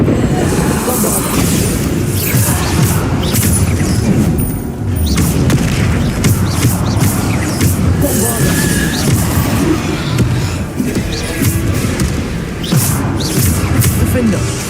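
Repeated Bombarda spell explosions in the Hogwarts Legacy video game burst out as a dense, loud barrage of booms and crashes filling the whole stretch, with a voice speaking over the fighting.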